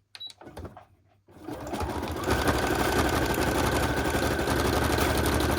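A sewing machine doing chain piecing on paper, with a stitch that has no back stitch, starts up after a brief pause and runs steadily, a loud continuous mechanical whir with rapid stitching rhythm.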